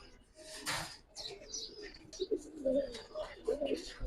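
Silver Giribaz pigeons in a loft cooing softly in short low bursts, with a louder rustle near the start and someone speaking over the birds.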